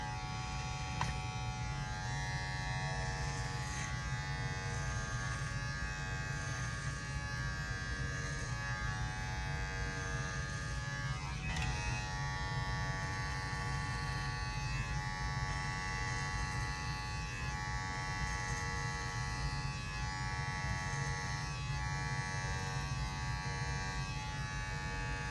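An electric hair clipper buzzes steadily and close up while cutting hair for a low drop fade, a constant humming drone with only slight shifts in tone as it moves through the hair.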